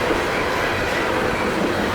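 Loud, steady rumble of a loaded CSX coal freight train passing close by in Maryland, heading from Grafton, West Virginia toward Baltimore, with wheel clatter and a hint of squeal over the rolling cars.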